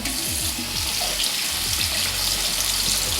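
Tap water runs steadily into a sink while the detachable head of a Panasonic nose and ear hair trimmer is rinsed, a continuous close splashing hiss with no talking.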